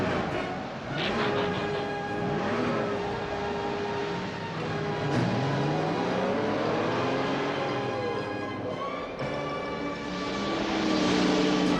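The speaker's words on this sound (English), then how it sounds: "Autobots, start your engines!" Cartoon robot vehicles, the Autobots, rev up their engines and drive off, a continuous loud engine roar with rising and falling pitch sweeps that builds toward the end.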